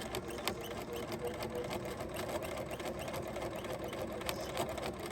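A sewing machine stitches a beginner's baby quilt, giving a steady, continuous mechanical hum with faint ticks throughout, close and moderately quiet with no pauses.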